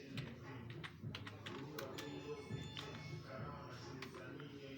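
Rapid typing on a computer keyboard, a steady patter of close key clicks with a few louder taps, continuing evenly throughout.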